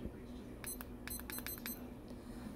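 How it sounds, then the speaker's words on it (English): A kitchen timer being set, giving a quick run of short, high electronic beeps in two bursts near the middle, moderately loud over a faint background hum. "So I'm going to set my timer here."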